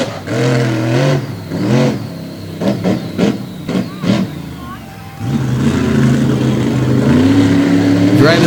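At a monster truck show, the Iron Warrior monster truck on an Eddie Matchka chassis roars as its engine revs and builds, rising loudly beneath an announcer's voice over the arena sound system.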